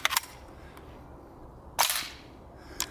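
Uzi 9mm submachine gun, an open-bolt design, fires three separate sharp cracks spaced across a few seconds, with a quiet pause between each report.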